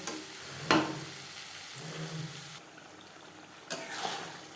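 Bhetki fish oil melting and frying with onions in a pan, a soft continuous sizzle with occasional stirring scrapes and clatters, quiet and close.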